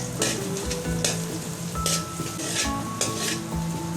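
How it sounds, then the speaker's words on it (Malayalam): Sliced onions sizzle steadily in a hot pan for chicken noodles, with a spatula stirring and clinking against the metal at close range and no voices. "സവാള ജസ്റ്റ് ഒന്ന് വഴറ്റിയതിന് ശേഷം"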